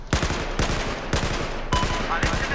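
Five sharp, evenly spaced gunshots from a weapon in Battlefield 4, loud and close, each with a short reverberant tail over steady background game noise.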